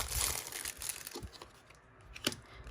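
Paper and sticker wrapping around a small package crinkles and tears as it is pulled open, a series of soft close rustles and crackles with brief gaps, no speech.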